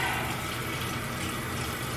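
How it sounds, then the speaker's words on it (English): A bathroom tap runs steadily during a skincare routine, giving a continuous, even hiss of flowing water close by, with no voices over it. "And I have my water running."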